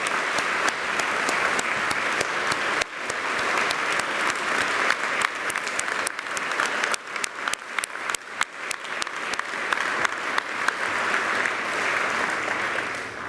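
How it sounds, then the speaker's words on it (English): A large audience at a membership general meeting applauds for members who have stood up. The clapping is dense and sustained at a steady level for the whole stretch, with no voices over it. "let's give them a huge round of applause"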